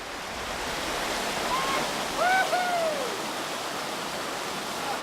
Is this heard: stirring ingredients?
no